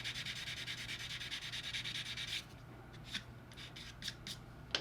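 A sanding stick rubs across a flat surface of a plastic scale model kit in rapid, steady strokes, then stops and gives way to a few isolated light scrapes and clicks, close and quiet.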